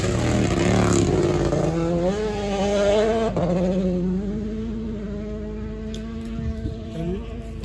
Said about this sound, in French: ça c'est une voiture rallye